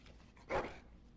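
A dog in the game Dragon Age: Origins gives a single short whimpering yelp, fairly close and clear against a quiet background.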